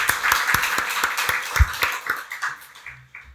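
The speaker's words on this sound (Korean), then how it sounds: "박수로 하나님께 영광 돌리겠습니다" A church congregation claps together at a Sunday worship service, a dense burst of hand claps that thins out and fades over a few seconds, with a few faint sounds lingering at the end.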